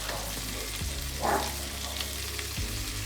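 Steady sizzling and crackling of meatballs frying in a pan, a continuous close hiss with a couple of soft knocks, no voices.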